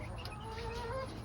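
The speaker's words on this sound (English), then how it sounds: "My chickens are freaking out because they want" Backyard chickens clucking in agitation, a short burst of overlapping soft clucks and calls at moderate distance over a steady low background.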